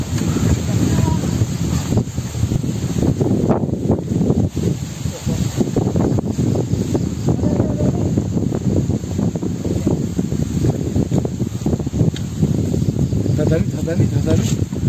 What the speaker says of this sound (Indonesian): Jadi efek angin juga.